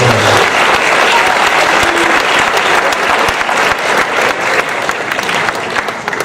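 A crowd applauding at a school fall sports awards ceremony, loud continuous clapping that holds steady for six seconds and eases off slightly toward the end, with a brief voice at the start.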